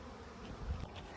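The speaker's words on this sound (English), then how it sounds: "There's a lot of bees," A swarm of honey bees in a tree gives off a dense, continuous buzz, faint and distant, with no voices.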